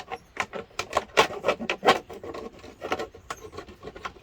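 A blade cuts a flap in a plastic bucket for a maggot feeder in a chicken coop, making close, rhythmic rasping strokes that saw steadily back and forth without any voices.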